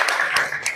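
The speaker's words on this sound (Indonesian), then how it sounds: "Tepuk tangan buat kelompok" Pupils in a classroom clap for a student group after a discussion, with a short burst of quick, close hand claps.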